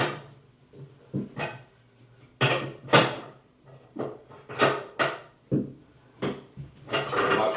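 Thick spanner tightening the nut on a single basin tap valve, a series of sharp metallic clinks and scrapes in irregular bursts, close and fairly quiet with no talk.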